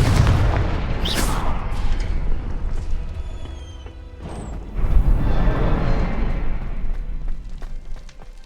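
A Confringo spell explodes in Hogwarts Legacy with a heavy, booming impact. A sharp crack and a whooshing burst follow, then a second rumbling blast partway through, with lingering magical shimmer and no speech.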